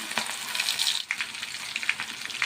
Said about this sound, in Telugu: 1 నిమిషం వేయించుకుందాం.